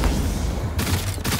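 Rapid automatic gunfire from a shooter video game set in a futuristic city, loud and close, with a dense rattling burst that cuts briefly and then resumes.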